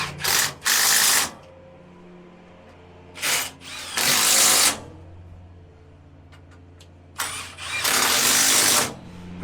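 A power tool drives bolts on a combine in three loud bursts of whirring, each about a second or two long, separated by quieter pauses with faint background hum.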